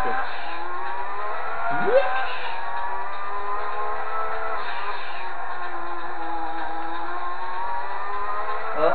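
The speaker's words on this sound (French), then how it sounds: "On dirait que le moteur il va exploser" A Nissan R32 race car engine in the video game Gran Turismo 2 drones at high revs with a rising whine, steady and loud throughout, shifting pitch as it accelerates.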